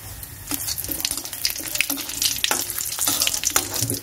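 Oil sizzles in a pan as ingredients fry for a winter Bengali catla fish curry with cauliflower, a continuous crackling hiss broken by repeated scraping stirs and clinks of a spatula, close and fairly loud.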